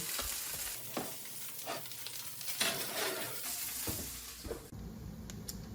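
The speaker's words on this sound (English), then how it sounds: "As far as bubbling, this is about all you want it to do" Maple bourbon sauce simmering in a pan on medium heat gives a soft, continuous bubbling and sizzle, close and fairly quiet, with a few light clinks and stirring noises.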